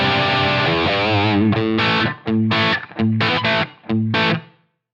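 An electric guitar plays a crunch tone from a preset on a Placater Dirty amp into a 4x12 Greenback 25 cabinet with room reverb: a sustained distorted chord followed by several short, punchy strummed chords.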